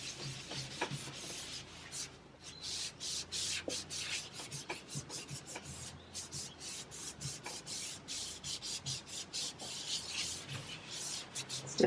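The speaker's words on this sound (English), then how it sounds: "I'm applying wax inside the drawers just to make it easier to pull the drawers out" Wax being rubbed by hand inside the drawers of a vintage wooden dresser, a close, steady scrubbing rasp in repeated back-and-forth strokes with short pauses between passes.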